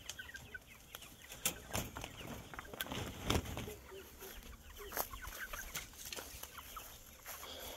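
Hens cluck in an outdoor pen shaded by small shrubs, with scattered clucks and brief wing flaps, fairly faint and continuous, with no talking heard.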